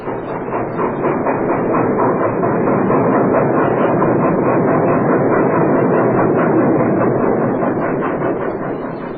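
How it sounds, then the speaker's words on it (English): A train rumbles past in an old-time radio mystery drama, a loud, steady rolling roar with faint rhythmic clatter that swells and holds for several seconds before easing slightly at the end, with no voices over it. "There it goes. The train we both missed."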